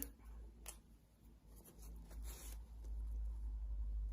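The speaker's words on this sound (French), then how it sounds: "Vous allez écrire." Pen writing on a paper banknote, a faint, close scratching with a few short strokes and scrapes over a low background hum, no talk.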